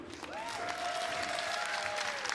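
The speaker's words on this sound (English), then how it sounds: "please put your hands together for her opponent" Audience applause after a bout at a fight league event, a steady faint wash of clapping from a crowd throughout, with sustained tonal sounds over it.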